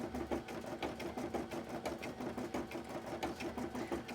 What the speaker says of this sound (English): My embroidery machine is chugging away, doing all the heckin' hard work.